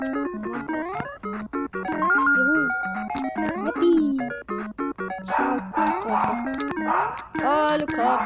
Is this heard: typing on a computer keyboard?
no